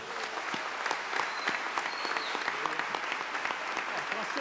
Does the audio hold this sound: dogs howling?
no